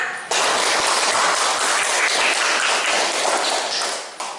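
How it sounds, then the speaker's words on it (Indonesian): A classroom of students bursts into clapping that starts abruptly, holds as a dense, even roar of hands for about four seconds, then cuts off. "Tepuk tangan untuk kawan-kawan kita."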